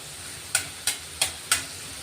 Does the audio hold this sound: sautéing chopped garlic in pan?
yes